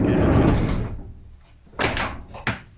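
The door of an LDV van swings shut with a solid thud, followed by a couple of quieter knocks and clunks close by.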